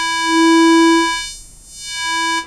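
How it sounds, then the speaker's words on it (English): A sustained synthesizer tone passed through a high-pass filter, its bright upper harmonics held steady while the lower body swells in, dips away briefly, and returns before cutting off; clean and alone. "we have a high-pass filter which will only let higher frequencies pass."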